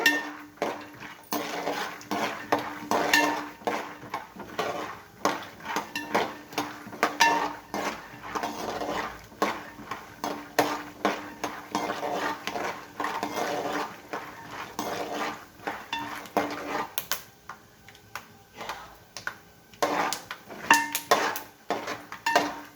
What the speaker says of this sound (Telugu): ముందు వేరుశెనగ గుళ్ళు వేసుకుందాము